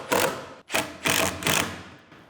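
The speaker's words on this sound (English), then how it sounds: "and start screwing them in." A power drill drives screws into a drawer locking slide for a Land Cruiser 250 drawer system, giving several short, close whirring bursts with brief pauses between them.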